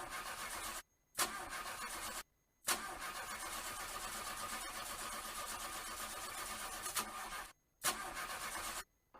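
A car engine repeatedly cranks and struggles to start, with long loud grinding starter bursts broken by short silent pauses, close and alone with no voices.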